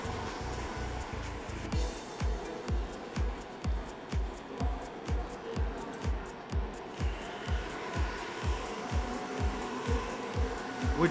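A hair dryer blow-dries a man's fresh haircut in a barbershop, its steady whirring airflow pulsing rhythmically as it sweeps back and forth close by, with no talk.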